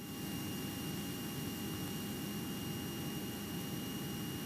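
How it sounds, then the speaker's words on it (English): A small airplane engine runs at takeoff power in a steady, loud droning rush that holds evenly throughout, heard from inside the cockpit. "Fly straight out, runway 4 left, cleared for takeoff"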